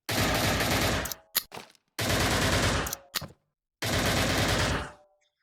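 Automatic weapon fire in a first-person shooter video game comes as three loud, sustained bursts of rapid shots, each about a second long, separated by short gaps and a few single trailing shots.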